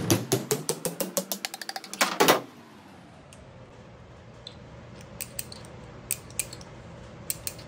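Tapping with a punch and hammer around the edge of a governor cap on a Chevrolet TH350 short-tail transmission: a quick run of about twenty sharp metallic taps over two seconds, then a quiet stretch with a few faint clicks.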